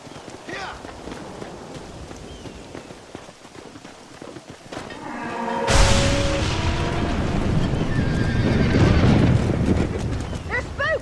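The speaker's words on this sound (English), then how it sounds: "They're spooked! We have to stop them stampeding!" Spooked horses in Red Dead Redemption break into a stampede, with a rising rumble of hooves and loud neighs and whinnies, as someone shouts over the commotion.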